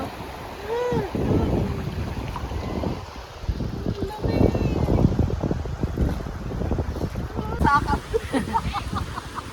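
Gusts of wind buffet the microphone outdoors near swimming water, rumbling steadily while people talk and call out over it.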